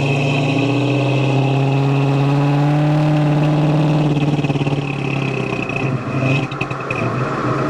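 A 1973 Pontiac Firebird Formula with a 350 engine revs up loud and close, a steady mid-pitched drone climbing under load for several seconds before stumbling and sputtering as power fades near the end.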